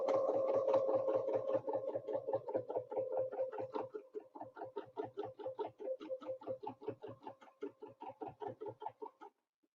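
A sewing machine quilts a line with a ruler in rapid, evenly pulsing stitches. The run starts continuous and then breaks into quick rhythmic bursts before stopping.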